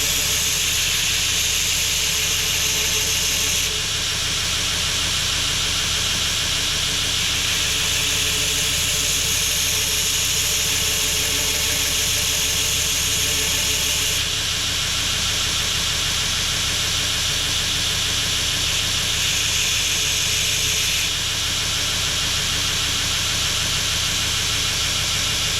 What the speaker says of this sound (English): I got that grinder turned down kind of low because I don't want to burn nothing up